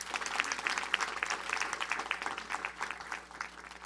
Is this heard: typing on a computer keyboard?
no